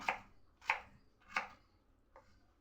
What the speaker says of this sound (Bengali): পেঁপেটাকে একদম এরকম ছোট্ট ছোট্ট পিস করে আমি কেটে নেব